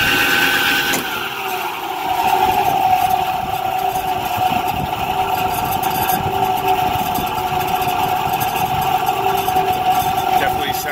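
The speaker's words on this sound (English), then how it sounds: "There you have the blower." An AAON unit's blower driven by a Baldor motor runs steadily with a constant mid-range hum and whir, loud and close, with a faint whine above and no break across the stretch.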